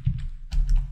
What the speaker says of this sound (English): And we want to type in the following.